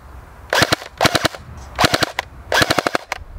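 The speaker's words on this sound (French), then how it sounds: "C'est un fusil spring, il faut donc réarmer la culasse avant chaque tir." A BO Manufacture (PPS) airsoft Mosin Nagant spring-powered bolt-action sniper rifle gives four loud, close bursts of sharp metallic clacks, each a quick cluster of clicks separated by short pauses.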